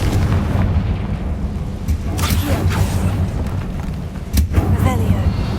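In the Hogwarts Legacy video game, the Confringo blasting spell goes off in a few sharp bursts over a rumbling low background, with a couple of distinct booms standing out.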